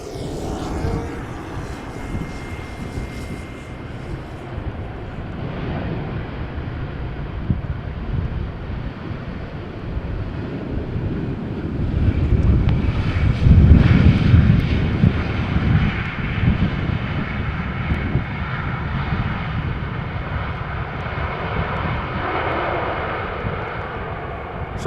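Airliner arriving at Amsterdam Schiphol Airport in strong crosswind after Storm Ciarán, its engine roar rising to a loud peak as it passes close, under steady wind buffeting the microphone.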